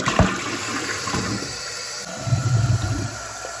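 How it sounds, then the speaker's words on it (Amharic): Water sprays in a shower stall, rinsing soapy foam from a natural lemon-and-orange cleaning mix down the drain; a continuous rushing hiss with a few gurgles, close and moderately loud. "ሳሙና ውሃው ሲረጭ አረፋውን ይዞ ወርዷል ማለት ነው"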